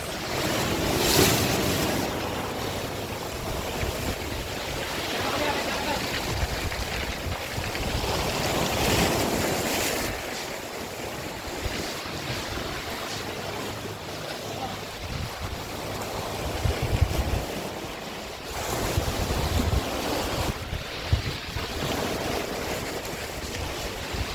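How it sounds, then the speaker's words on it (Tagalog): Heavy surf crashes continuously at Butas Butas Beach in Mauban, Quezon, with strong wind buffeting the microphone, a loud, steady roar of ocean waves with no talking. "Grabing alon lang, pakalakas."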